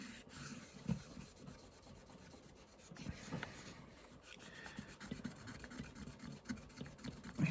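A vintage AC amp meter gauge is rubbed clean with rubbing alcohol, producing soft, continuous scrubbing and rubbing strokes with occasional light scratches, close and fairly quiet.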